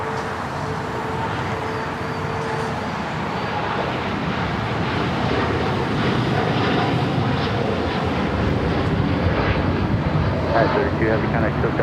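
Copa Airlines jet rolling for takeoff on runway 25 right at LAX, a broad engine roar that swells slightly over the span, with talk running over the top.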